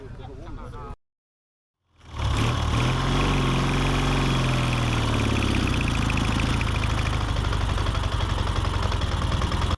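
A German WW2-era motorcycle with sidecar idles steadily and loudly close by after a brief silence, a constant low rumble with a rough, throbbing texture.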